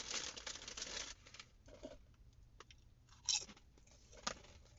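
Someone bites and chews crunchy chips alongside a 7-Eleven hot dog, with close, crisp crunches and crinkly snaps, a dense burst at first and then sparser bites.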